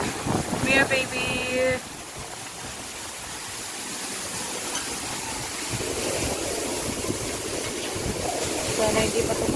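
Typhoon Uwan's strong wind roars steadily across a mini farm, a continuous loud rushing wash with slight surges, while a brief voice and short tonal sound come through early on and again near the end.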